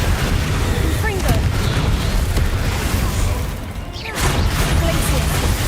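The Confringo fire spell explodes in Hogwarts Legacy with loud, dense rumbling booms and crackling bursts. The blasts ease briefly before another eruption, with voices mixed in.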